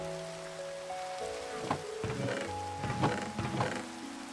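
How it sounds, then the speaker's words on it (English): Rain in Minecraft patters steadily on surfaces, with scattered louder drop thunks over a background of sustained game tones, and no talking. "Oh, that rain is loud."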